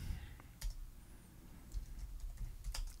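Brief keyboard typing, a few sparse key taps close by over faint background hiss, as a password is entered.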